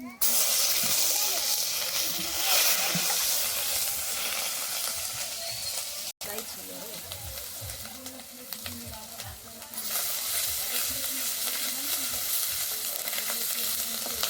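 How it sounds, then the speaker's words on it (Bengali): Onion paste frying in a pan gives a loud, continuous sizzle with stirring scrapes throughout, briefly cut off once and then returning, with no speech. "এবার আমি দিয়ে দিচ্ছি পেঁয়াজ বাটাটা"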